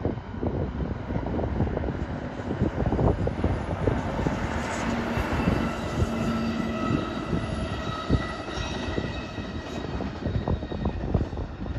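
An Amtrak train rumbles past the salt ponds at Alviso Marina County Park in San Jose, a loud, steady roar with rattling that holds across the whole stretch, with no talk over it.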